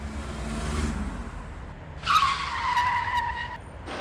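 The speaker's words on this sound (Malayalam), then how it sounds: "ഈ ഒരു ഐ ട്വന്റി തുടങ്ങിയാലോ ഐ ട്വന്റി തുടങ്ങാം നമുക്ക്" A 2016 Hyundai i20 petrol car has its engine started at a used-car lot. A brief starter crank catches into a close idle after a quieter stretch of background noise.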